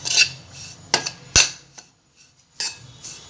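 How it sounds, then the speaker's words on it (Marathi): A metal spoon scrapes and taps against a pan while poppy seeds are stirred and dry-roasted for modak filling, a few sharp clinks and scrapes spaced irregularly with quiet gaps between them. "ते खसखस घालून पण 2 मिनिटं असं चांगलं हलवून भाजून घ्यायचं चांगलं एकदम।"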